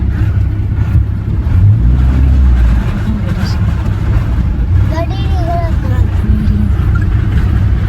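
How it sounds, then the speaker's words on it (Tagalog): Street traffic on a very windy, stormy day in Pakistan: a constant loud roar of wind buffeting and passing vehicles under steady low rumble, with people talking over it. "Traffic na."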